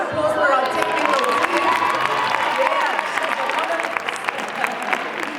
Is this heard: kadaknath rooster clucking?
no